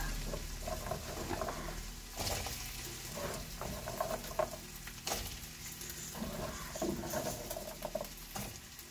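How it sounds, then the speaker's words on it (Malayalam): Peeled taro (chembu) sautéing in hot oil in a pan gives a soft, continuous sizzle and patter, with faint stirring scrapes and occasional clinks, no talk. "അതിലേക്ക് നമുക്ക് ചേമ്പ് ഒന്നിട്ട് വെക്കാം. എണ്ണയിലിട്ട് വാട്ടി വെക്കാം."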